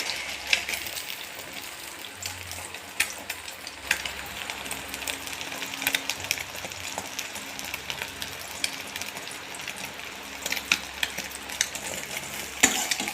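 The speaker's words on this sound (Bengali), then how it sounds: "এবার আমি এটাকে ভালো করে ভেজে পরে তুলে নেব" Egg-dipped bread slices fry in a pan with a soft, steady sizzle, punctuated by occasional light clicks and scrapes of stirring; no one speaks.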